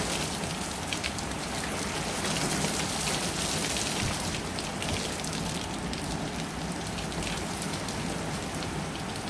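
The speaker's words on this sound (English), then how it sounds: "It's like sideways rain." Heavy sideways rain in a Minnesota storm hammers down as a loud, dense, continuous roar of drops on surfaces, steady throughout with no voices.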